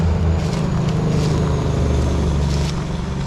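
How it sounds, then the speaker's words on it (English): Heavy tip truck on a road near Canberra passing by, a loud steady engine drone and tyre roar with no speech. "Another tip truck."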